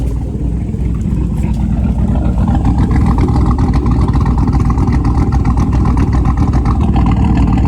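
A truck with a cammed Gen V LT V8 idles nearby, its loud, rough exhaust carrying a steady, lopey chop that continues evenly throughout.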